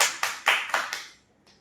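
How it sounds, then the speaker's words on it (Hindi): Several sharp hand claps in quick succession for a student during a podcast, fairly close and fading to quiet after about a second, with no voices. "उसके लिए तालियां।"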